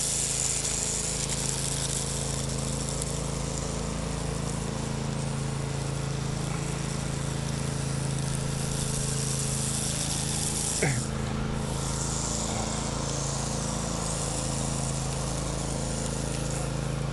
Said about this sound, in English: Look at this old man riding his lawnmower down the street.